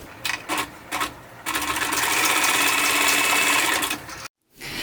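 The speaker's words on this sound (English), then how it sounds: "I'm going to serge or zigzag stitch this end with a 1/4 inch seam allowance." A sewing machine serges or zigzag stitches the end of a fabric headband, starting with a few short bursts, then running steadily for about three seconds before stopping, close and clear with no talking.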